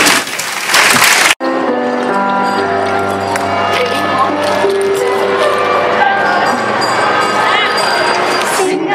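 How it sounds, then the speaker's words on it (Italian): A short burst of loud audience applause for a choir at an evening event, cut off after about a second as the choir starts singing, with sustained harmonized voices and accompaniment carrying on. "un applauso al coro"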